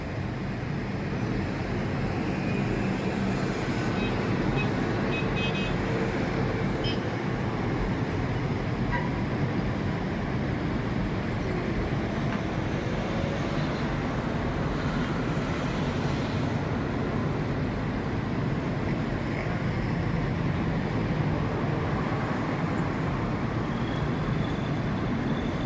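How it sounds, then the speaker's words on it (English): Continuous roar of dense Manila road traffic opposite the Mall of Asia, near the airport, heard from a hotel balcony as a broad, steady wash of engines and tyres with occasional passing swells. "This is why I'd never drive in Manila. The traffic here is crazy."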